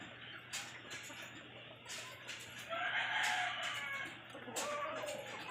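A fighting rooster crows several times at a cockfight over steady background noise, the calls loud and drawn out, with clucking fowl nearby.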